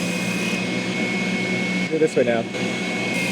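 A spindle sander grinds along the edge of a wooden shelf, a loud steady whirring drone with a brief dip in pitch as the wood is pressed in, while a person speaks briefly over it.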